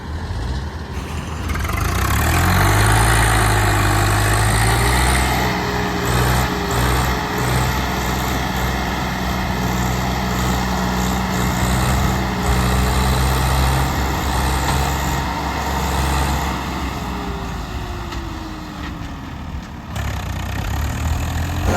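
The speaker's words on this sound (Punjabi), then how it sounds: "ਹੁਣ ਟਰੈਕਟਰ ਨੂੰ ਚੜਦਾ ਦਿਖਾਉਣੇ ਟਰਾਲੀ ਨਾਲ" A Swaraj 855 tractor engine pulling a trolley runs steadily for a long stretch, a deep, loud rumble that rises and holds under load, nearby and alone.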